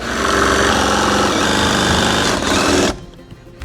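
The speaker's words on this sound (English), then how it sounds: "Shout out to DeWalt for this electric jigsaw." A DeWalt electric jigsaw saws through wood for a DIY Christmas gift, its loud, steady buzzing and rapid chattering strokes running for about three seconds before cutting off abruptly, leaving quiet room sound.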